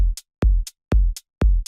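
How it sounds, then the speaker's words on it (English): A single hi-hat hit repeats four times at a steady pace, each short crisp tick following a low thump of a kick drum. "So with just the hi-hat that we used from the beginning,"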